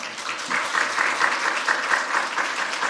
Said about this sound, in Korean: 우리 한번 큰 박수로 맞도록 하겠습니다